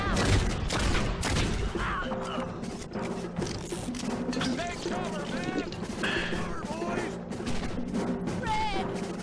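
Gunfire in the Red Dead Revolver video game rings out as a rapid volley of sharp shots and crashing impacts, loud and continuous over several seconds, with busy game effects between the reports.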